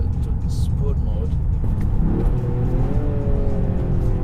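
A Toyota GR Yaris engine pulls hard and revs upward from inside the car, a steady rising drone and rumble heard under someone talking.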